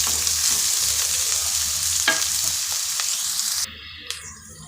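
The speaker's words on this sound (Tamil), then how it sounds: "இதில் வெங்காயமும் பச்சை மிளகாயும் போட்டுட்டேன் வெங்காயம் கொஞ்சம் நல்லா பொறிஞ்சு வரட்டும்" Steady sizzling of onions and green chillies frying in hot oil, close and continuous, with a few stirring scrapes before the sizzle drops quieter near the end.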